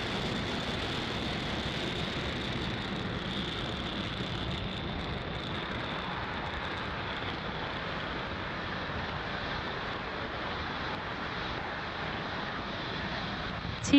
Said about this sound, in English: Falcon 9 has successfully lifted off from Space Launch Complex 40